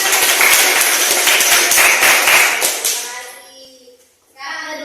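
A classroom group of children clapping hands together in a loud burst of brisk applause lasting about three seconds, then fading, followed by a voice.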